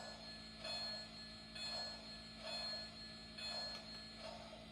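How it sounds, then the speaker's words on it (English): Bell of a Santa Fe 4100 model steam engine, ringing in a steady rhythm of four soft, evenly spaced strikes over a constant electronic hum. "Now this is the bell."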